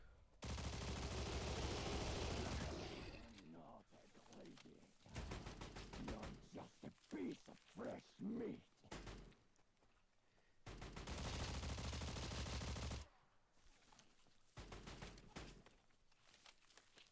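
Loud, sustained bursts of automatic gunfire in a video game alternate with quieter stretches of scattered single shots and thuds, with no talking.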